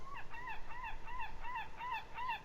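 Repeated wavering calls of seagulls on an island in the video game Fatum Betula, about five cries in steady succession, fairly close over a faint background.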